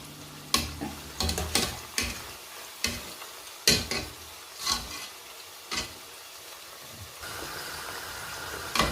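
Cabbage pakoras deep-frying in oil give a soft background bubbling hiss, broken by a series of sharp, close utensil knocks and clatters at irregular intervals.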